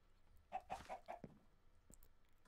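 Chicken clucks from the Minecraft modpack Stoneblock 2, a quick run of four soft clucks followed by a few faint extra notes, quiet and alone.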